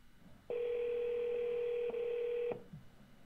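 A telephone gives a single sustained dialing tone lasting about two seconds with a slight break near the end. It sounds clear and steady over faint room noise, and the quiet background holds no talking.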